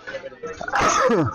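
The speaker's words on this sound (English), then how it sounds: "excuse me, bless you." A single sharp sneeze during a curling broadcast, loud and close, following a brief stretch of quiet talk.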